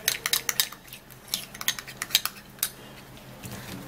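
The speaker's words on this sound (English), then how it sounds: "then we mix it together." Spoon clinking and scraping against a bowl while stirring a homemade stretch mark remedy made with lemon, a quick run of sharp metallic taps and clicks, close and fairly loud, with no talking over it.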